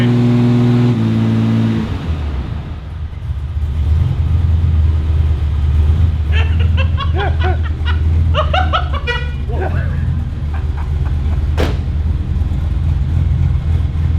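Ute with a stage 4 cam in an XG idling choppy and loud right up close, a steady lumpy rumble throughout, with people talking over it for a few seconds in the middle.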